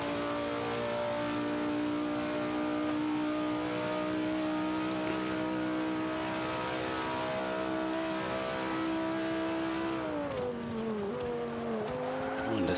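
A 2005 Honda NSX-R in Forza 5 accelerates hard with a loud, steady engine drone that holds pitch, then shifts and wavers near the end as the car eases into a turn, with faint tire noise.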